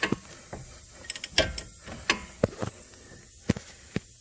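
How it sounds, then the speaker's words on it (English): A wrench works a nut off a sway bar link on a car's front end, the other side held with vice grips, giving a string of close, irregular metallic clicks and ratcheting knocks, with no voices. "on the one side you got vice grips, on the other side I'm wrenching"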